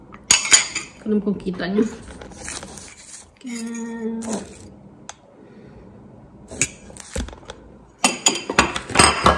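Banana batter mixed in a bowl with utensils, clinking and scraping in bursts with pauses between them, close and fairly loud, with a brief spoken line near the start.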